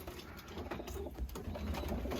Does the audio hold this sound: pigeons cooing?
yes